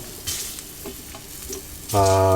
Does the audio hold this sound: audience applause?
no